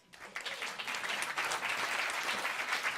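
An audience bursts into applause as a guest is called forward at an event, starting softly and swelling quickly into a full, sustained clapping that stays strong to the end.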